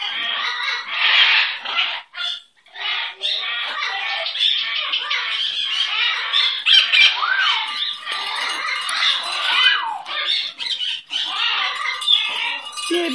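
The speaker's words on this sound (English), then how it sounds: "Oh, listen to you cry. What a beautiful bird you are." A pet bird squawks loudly and repeatedly up close, harsh shrill calls in bursts with short pauses, alone without talk.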